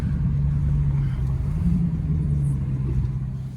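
A Dodge Charger Pursuit SRT-8 on a test drive gives a steady, close interior engine drone and road rumble, with a low hum that stays even throughout and no talking.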